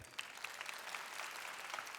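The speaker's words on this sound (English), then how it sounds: "Round of applause for Shane." Steady applause from a crowd, sustained clapping throughout at moderate distance, fairly faint.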